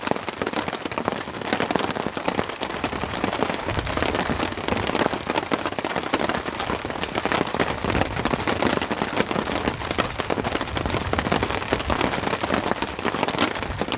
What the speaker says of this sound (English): Can you hear that rain?